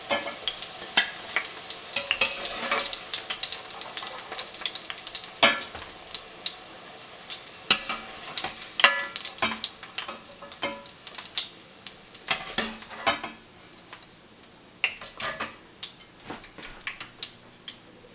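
Chitol fish muitha dumplings frying in oil over a medium flame, a steady crackling sizzle dense with small pops and occasional spatula clinks and stirring scrapes, close and continuous.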